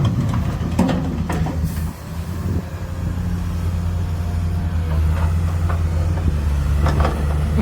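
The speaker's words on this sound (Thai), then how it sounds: "เสียงงัดหิน" A Komatsu PC350 excavator prying hard rock loose while dredging a dam, loading ten-wheel dump trucks; a steady low diesel rumble runs throughout, broken by several sharp scraping and knocking bursts of bucket on stone.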